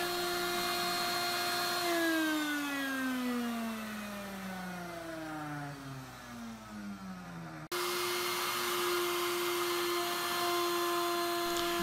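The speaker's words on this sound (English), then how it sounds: "I'll slowly lower the board over the cutter at the stop on one side and I will move it over until I hit the stop at the other side" A router table cutting a walnut cutting board made from offcuts, a loud steady whine that drops in pitch under load as the board is fed, then returns to its full free-running tone. No talk.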